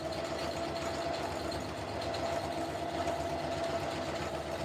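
A sewing machine stitching double reinforcing rows on a camo helmet cover hums as a steady, moderately faint motor whir with a constant tone and no talking.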